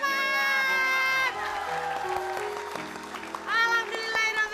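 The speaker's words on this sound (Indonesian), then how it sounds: "Alhamdulillah, tepuk tangan untuk Mas Ahmad" A studio audience on an Indonesian TV variety show claps and cheers after a juggling challenge is completed, a loud burst of applause with whoops and crowd noise that settles into a lower murmur before swelling briefly again.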